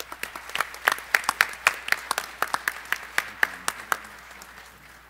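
A small conference audience claps to welcome a plenary speaker, a sparse round of distinct, close handclaps that bunch up early, then thin out and fade toward the end.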